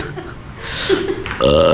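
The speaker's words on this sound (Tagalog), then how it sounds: "Ayan o, may dighay pa ako." A short, throaty burp lands partway through, close to the mic, set among casual talk after a big takeout meal that included pizza and takoyaki.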